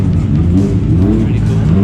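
A Nissan Silvia S15 drift car with an SR engine revs loudly and close by at a wet drift event at Mobara Twin Circuit, its engine droning steadily with rising and falling pitch under crowd voices.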